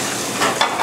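Halibut fillet frying skin side down in a pan, a steady close sizzle and hiss with slight swells in intensity across the short clip, no voices.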